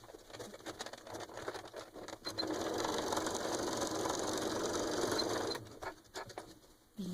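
Sewing machine stitching a seam on a fabric pouch, a fast even mechanical whir in one sustained burst of about three seconds, bracketed by shorter starts and stops, close and alone.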